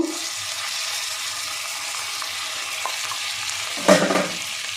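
Chopped tomato frying with spices in a pan, a steady broadband sizzle throughout with a louder burst of spatter and stirring near the end; no talk.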